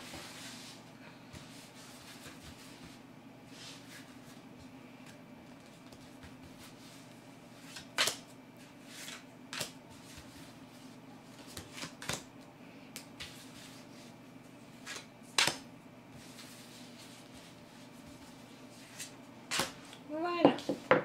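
Tarot cards handled quietly during a draw, scattered soft flicks and snaps of cards over a faint hum, with quiet background voice.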